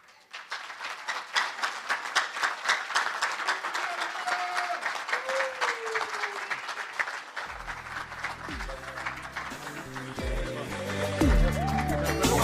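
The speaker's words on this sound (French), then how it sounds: "Standing ovation, c'est solennellement qu'on le salue, qu'on l'applaudit dans la salle ce soir, après son speech de circonstance" A hall audience gives sustained, dense applause and a standing ovation after François Nicolas Duvalier's speech in Haiti. The clapping builds and holds steady, and music rises beneath it toward the end.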